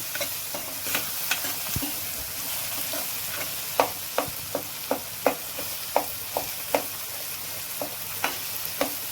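Continuous hissing sizzle of spices and turmeric frying in hot oil, with regular scraping clicks of a spoon stirring the pan.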